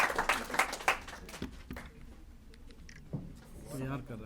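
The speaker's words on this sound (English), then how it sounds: "give him a huge round of applause" An audience at a speech competition for an Islamic Studies Society claps and applauds. The brief burst of clapping comes mixed with voices, then fades into murmur and talk.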